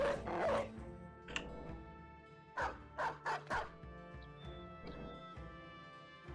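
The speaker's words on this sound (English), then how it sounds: "Let's put another dog out." Dogs barking in the video game Battle Brothers, a quick series of sharp yips and bow-wows clustered mid-clip over a steady game backdrop, moderately loud and close.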